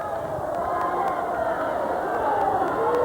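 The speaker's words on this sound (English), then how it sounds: "Crowd thinking a lot of these pitches are strikes and letting home plate umpire Mike Baldwin know about it." Baseball crowd at a college game between Cal Poly Pomona and Hawaii, murmuring and calling out steadily in a continuous hubbub as pitches are thrown, with no distinct announcer talk over it.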